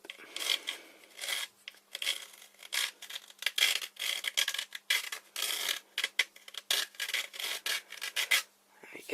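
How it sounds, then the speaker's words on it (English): The ends of a piece are sanded down to a smooth tip in close, uneven bursts of scratchy rubbing strokes separated by brief pauses. "sand the ends down"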